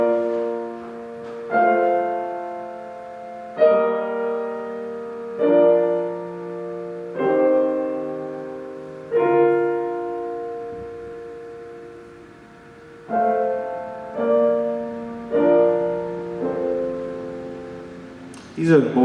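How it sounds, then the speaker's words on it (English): A simple progression of basic chords from Mozart's harmony is played on piano: about a dozen separate block chords, each struck and left to ring and fade before the next, heard alone without talk. "just to play the chords that Mozart uses, it would sound something like this"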